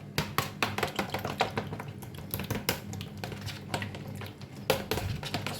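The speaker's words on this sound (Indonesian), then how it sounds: "yang pertama kita masukkan 1 butir telur utuh, kemudian kita kocok lepas aja" A whole egg is briskly beaten loose in a bowl, rapid clicking taps of the utensil against the bowl in an uneven, steady rhythm, close and alone.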